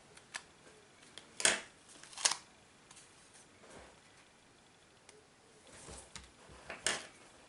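A few sharp snips of scissors cutting adhesive fabric, quiet and close, spaced irregularly with soft rustling between them.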